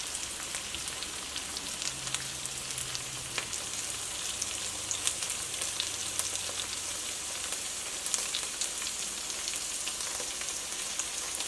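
Capsicum frying in a hot pan for a spiced potato dish, a steady, dense sizzle and crackle heard up close without any talking.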